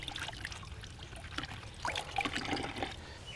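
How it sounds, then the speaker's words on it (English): Water trickles and drips off a paint brush as it is rinsed clean, a soft, continuous wet splashing with small irregular spatters, close and moderately quiet, with no talking. "Continue working this until you get clear water coming off the brush when you agitate the bristles."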